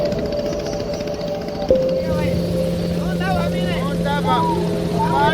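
A motorboat travels along a river in the Amazon jungle, its engine droning steadily with a shift in pitch partway through, while people talk over the running motor.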